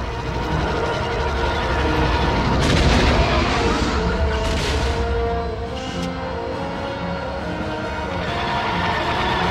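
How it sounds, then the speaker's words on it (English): Heavy laser and cannon fire in the Star Wars Rogue Squadron II space battle game, a continuous loud roar of blasts and booms with rumbling engines, dense and close throughout. "transports are drawing heavy fire."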